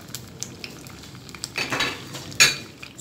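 Spices including cumin and turmeric being stirred with a wooden spoon in a tagine pot over heat, giving light scraping and clinking strokes with a brief louder knock near the end, mostly quiet between strokes.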